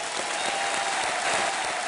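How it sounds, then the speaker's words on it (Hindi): A studio audience claps loudly and evenly for Rahul Gandhi on the quiz show Kaun Banega Crorepati, a dense wash of applause that holds for about two seconds with no one speaking. "एक बार फिर जोरदार तालियां उनके लिए"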